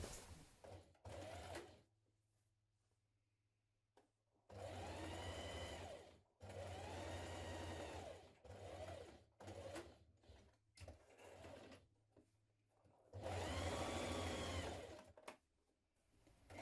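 A sewing machine stitches a bodice seam on a summer dress in several quick, whirring runs separated by short pauses, fairly quiet overall and with no talking.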